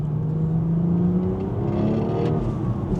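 BMW F30 340i accelerating hard, heard from inside as a loud steady engine drone with a rising tone that climbs and then drops back as it pulls, no talking.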